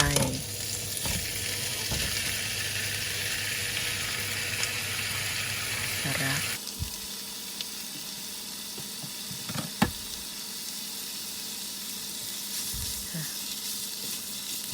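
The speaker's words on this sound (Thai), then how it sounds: "แล้วก็ผัด ผัด ผัดให้หมูสุกจ้า" Pork leg is stir-fried with curry paste in a hot pan. A loud, dense sizzle runs for several seconds, then drops to quieter frying broken by occasional knocks and scrapes of the spatula.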